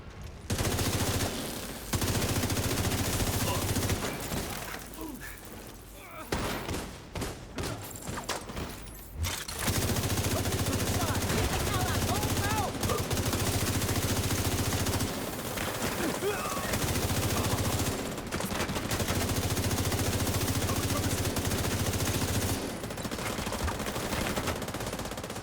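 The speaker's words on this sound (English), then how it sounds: "So I was trying to deduce where the shots were coming from" Close video game gunfire keeps going as rapid automatic bursts and volleys of shots, with brief lulls between them, over a steady low background rumble.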